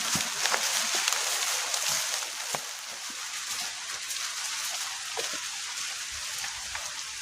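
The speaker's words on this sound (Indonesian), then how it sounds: "Oke, sekarang masih gerimis teman-teman. Tuh, masih terdengar gerimis-gerimisnya." Light drizzle falling during a camping trip near a forest, a steady soft hiss of fine rain with scattered small drop taps close by, continuous and even throughout.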